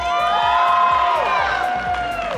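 A crowd at an esports tournament cheers and whoops loudly, a dense wall of voices with rising and falling shouts over steady thumping, sustained throughout with no pause.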